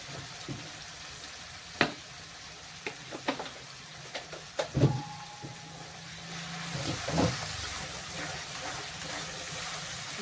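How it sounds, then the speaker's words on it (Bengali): Cauliflower sautéing in a pan for a vegetarian dish, a soft steady sizzle with scattered clicks and scrapes of stirring that grows a little busier toward the end. "কষিয়ে নেব ভালো করে"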